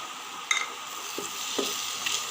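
Onion and tomato sizzle steadily as they sauté in a pan, with a few scraping stirs of a utensil against the pan; no talking.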